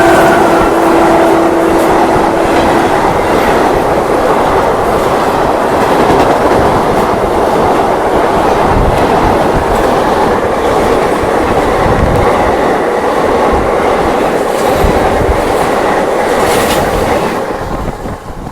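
The Tirhut Express rumbles past at a crossing near Ujiarpur railway station in India, a loud continuous roar with rhythmic clickety-clack of wheels over rail joints, wind buffeting throughout, fading slightly at the end.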